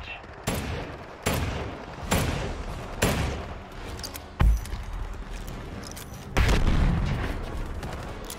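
Loud booms and gunfire burst out in Predator: Hunting Grounds, with a flashbang explosion among about six sharp blasts, each trailing a long rumble, spaced at roughly one-second intervals.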